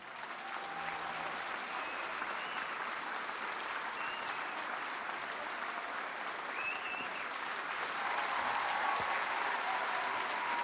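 Steady, moderate applause from a stadium crowd in the Madden 26 football video game, a dense wash of clapping that holds evenly for about ten seconds and swells slightly near the end, with no clear voices on top.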